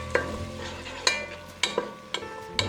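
Onion and garlic frying in olive oil get stirred with five or six distinct scraping strokes against the pan over a faint steady sizzle, close up and without speech.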